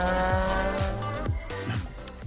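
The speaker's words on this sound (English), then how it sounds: "Coming up through Butchers in the twisty part, Cherry really driving that car hard" Race car driven hard through a twisty corner on a circuit, engine note rising and falling through quick gear changes while the tires squeal loudly, close by and alone.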